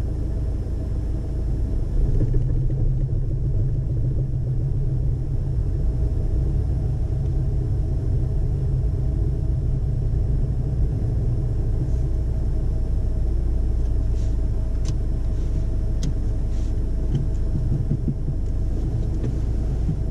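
A learner's car edges forward and moves off on a road during a driving lesson, a steady low engine rumble with road noise that continues without a break.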